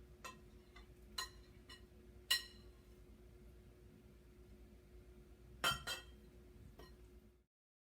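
A spoon clinks against a bowl while stirring gluten-free peach blueberry muffin batter, a handful of sharp, light taps spaced irregularly over a faint steady hum, nearby and fairly quiet.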